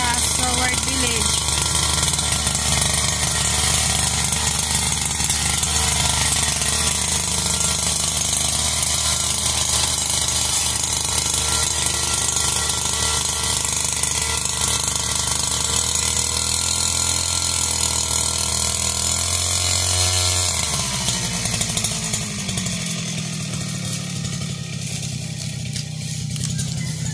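A grass mower runs and cuts grass in a village yard, a loud mechanical rattling engine drone that drops in pitch and eases near the end, with voices talking over it.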